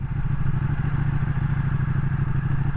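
A Ducati motorcycle creeps away in first gear with no throttle, its engine giving a steady, close, low pulsing thrum with a faint mechanical clatter throughout.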